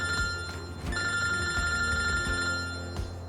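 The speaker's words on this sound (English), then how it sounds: "So, oh, phone call." A telephone rings with an incoming call in a farming game, a bright repeating electronic trill in rapid regular pulses, moderately loud and alone.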